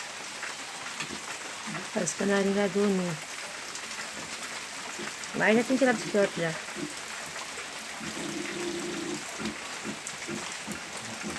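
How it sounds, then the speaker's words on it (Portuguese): Steady rain falls over an outdoor yard near a sheltered canary's nest, a constant broadband hiss running throughout while someone talks over it at intervals. "Chovendo hoje de novo."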